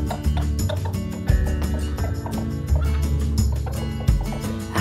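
Cartoon hen clucking and gobbling in short repeated bursts in a giant's castle, loud and close and layered over music.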